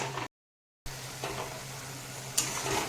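Pointed gourd paste is stirred in a pan over low gas, a faint continuous sizzle with occasional soft scrapes, broken by a short gap of silence near the start.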